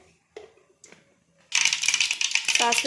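Mustard seeds spluttering in hot oil for a village-style tempering, a dense burst of close, crackling pops that starts abruptly and continues steadily, preceded by a couple of faint clinks.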